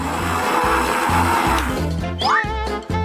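A kitchen blender whirs loudly and steadily as it mixes selenium alginate and other ingredients, its motor pitch shifting and surging near the end as the contents churn.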